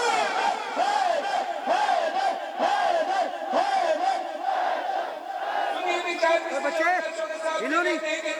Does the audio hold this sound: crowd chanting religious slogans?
yes